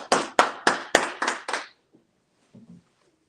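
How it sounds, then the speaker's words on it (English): At a Sabbath church service, hands give about six sharp, evenly spaced claps over roughly a second and a half. Near silence follows, broken only by a couple of faint, soft thumps. "All right, go ahead and clap it up."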